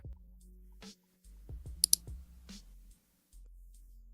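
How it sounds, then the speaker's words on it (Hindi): Several sharp computer mouse clicks and a brief burst of keyboard tapping while setting up an FxPro account in the MetaTrader 5 trading app, close and fairly quiet, with gaps of near silence. "नया अकाउंट चुनता हूँ, FX Pro लिखता हूँ"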